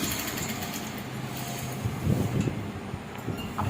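A sewing machine stitches directly over an existing seam, producing a steady, close mechanical hum with a faint rapid chatter that rises slightly partway through.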